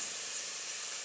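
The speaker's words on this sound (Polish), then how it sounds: "Wrzucam kurczaka. I obsmażamy go tak, dosyć mocno, czasami mieszając, tak żeby nam się nie przypalił." Chicken for pilaf frying hard in a pot gives a loud, continuous, close sizzling hiss that fills the whole moment.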